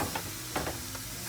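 Seafood with a splash of rice wine sizzling in a pan for lobster and shrimp pasta, a brief soft hiss with a faint clink or two, quiet and close, no voices.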